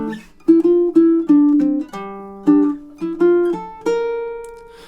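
A baritone ukulele plays measures one and two of a melodic riff at about 100 BPM, a clear run of plucked single notes, some short and repeated, others ringing longer, heard alone and close.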